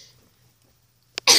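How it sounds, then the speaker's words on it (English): A single short cough near the end, close and fairly loud, preceded by a near-silent room and a faint click. "Except when I cough."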